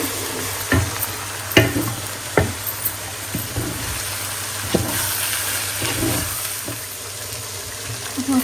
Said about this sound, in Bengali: একসাথে চাল ডাল ভেজে ফেলবো।